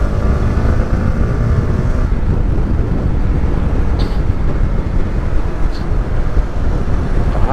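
A Honda CB150X motorcycle accelerating at speed, a loud, steady engine roar with heavy wind buffeting the microphone, sustained throughout.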